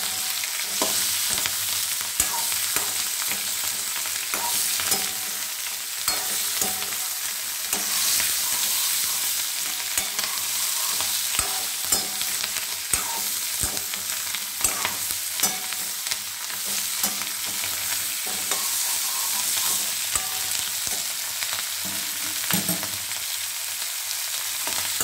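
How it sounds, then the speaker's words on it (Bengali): Spring onion stalks fry in a pan for a Bengali potato and tomato dish, a loud continuous sizzle broken by frequent scraping and clinking strokes of a spatula as they are stirred, with no talking. "পেঁয়াজ কুলিটা ভাজা হয়ে এসছে"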